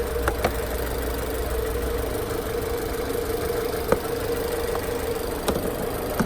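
A 2020 Jeep Compass Trailhawk's 4-cylinder 2.4-liter engine idles steadily with a smooth, quiet hum and faint periodic ticks, heard close up without any talking.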